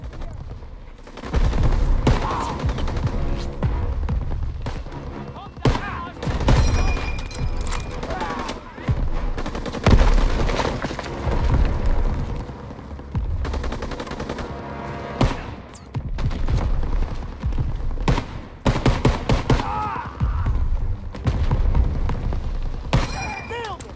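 Call of Duty WW2 combat gunfire from the Operation Cobra mission: bursts of rifle and machine-gun shots with thuds and booms, loud and intermittent, mixed with other battle noise.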